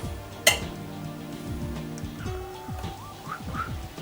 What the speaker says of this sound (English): we just keep on stirring until the butter is gone.